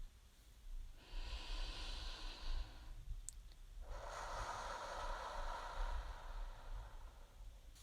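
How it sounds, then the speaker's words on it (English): A slow, deep breath drawn in and let out in a calm, quiet setting, the airy inhale followed by a longer, fuller exhale, close and soft with no talking. "let's go ahead and take a deep breath together now"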